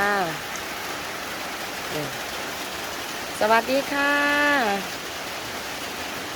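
Light drizzling rain falls behind a rural house near a cattle pen as a steady, even hiss, while a voice briefly speaks over it a few times.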